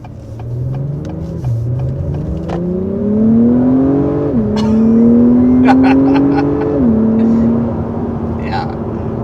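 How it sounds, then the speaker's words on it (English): A 2021 Acura TLX Type S in Sport Plus mode with its exhaust valve fully open, giving a deep, loud exhaust drone that climbs through several gear shifts, heard from inside the car while people talk over it. "I heard the exhaust get even deeper sounding"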